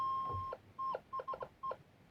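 A metal detector idling with its sensitivity turned all the way up, giving off intermittent electronic beeps and chirps in short bursts over a faint noisy hiss, alone with no speech.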